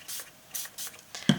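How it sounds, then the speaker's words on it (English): Spray can overspraying paint on a test surface: a few short, close hissing bursts of aerosol in quick succession, with a small sharp click at the end. "I'm over spraying, of course."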